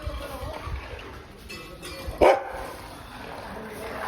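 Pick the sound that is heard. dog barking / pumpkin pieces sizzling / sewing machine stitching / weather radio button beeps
dog barking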